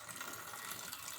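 Water pouring out through the vent hole of a Paterson film developing tank during a rinse, a steady faint broadband gush with no talk.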